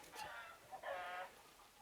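Chickens cluck outdoors in the early spring egg-laying season, a faint, distant, intermittent series of calls with no talking.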